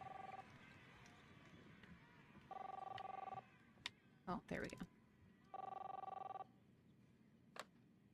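An old-style telephone bell rings in the video game Captain Spirit, three separate bursts in a quiet room, with a few clattering knocks between them and a voice speaking briefly.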